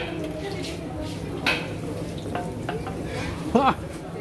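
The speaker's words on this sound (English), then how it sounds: "Grill, it's a grill." Food sizzles on an outdoor street grill in Curepipe, Mauritius, a low, steady crackle under nearby voices, broken by a couple of brief clinks.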